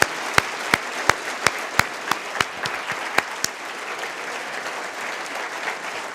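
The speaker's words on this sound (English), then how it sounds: "I ask you to applaud all of those families and friends right now." An audience at a 2014 medical school white coat ceremony applauds families and friends, opening with sharp, distinct claps at a steady rhythm that thin out and blend into a softer wash of crowd clapping.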